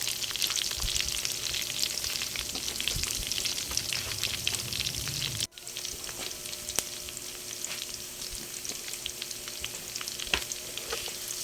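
Onions sizzling steadily in a hot pan as bopis is cooked, with scraping stir strokes and a brief drop in the sizzle midway before it resumes at full strength.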